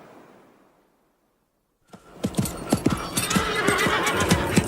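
Horse hooves clip-clopping at a fast gallop right after a sudden cut from near silence, loud and close, with a sharp whinny mixed into the steady pounding rhythm.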